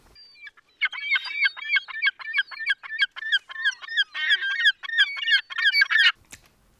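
A person imitates a seagull with their voice, giving a rapid run of loud, nasal, squawking cries in quick pulses for several seconds.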